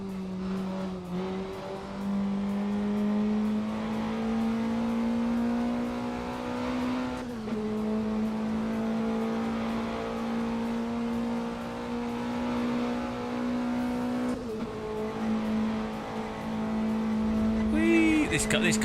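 A race car engine in a VR sim racing game holds a steady high drone, shifting pitch near 1 s, 7.5 s and 14.5 s as the driver changes gear, with a brief squeal near the end and speech over it.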